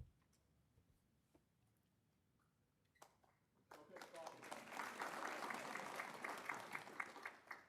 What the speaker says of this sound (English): department heads need applause too every now and then.